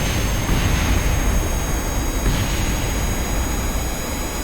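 Plane engine roaring steadily at takeoff in Kerbal Space Program, a loud continuous broadband jet-like rush that holds level throughout with no voices.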